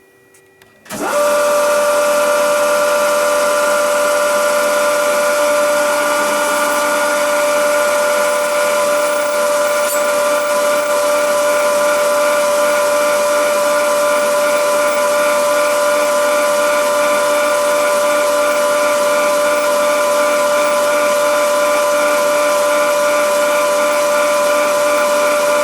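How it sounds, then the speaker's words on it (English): A drill whirs up and runs continuously at a steady, loud pitch with a droning hum, center drilling and drilling metal with a 5 mm bit, without letup. "So I'm gonna center drill this and then drill it with this 5 millimeters drill bit"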